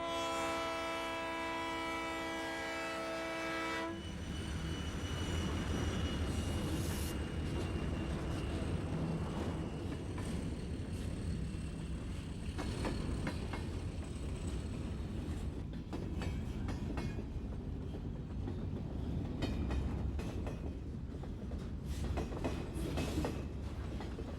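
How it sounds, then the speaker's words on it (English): A Chicago and Western Illinois Alco RS-1 switcher locomotive, leased to the Wabash, pulls a train with a sustained multi-tone horn blast at the start. The steady engine drone and clattering wheels on rail continue loud and close throughout. "we catch a Chicago and Western Illinois Alco RS-1 switcher. The train is on lease to the Wabash and is pulling the train to Boat Yard"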